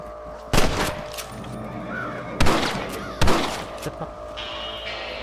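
Several sharp gunshots ring out in a Red Dead Redemption shootout, spaced irregularly with echoing tails, while crows caw faintly in the background.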